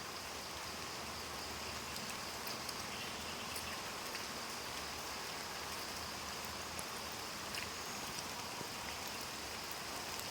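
Steady rain falling continuously, a dense hiss of drops hitting surfaces with occasional louder drips, no voices.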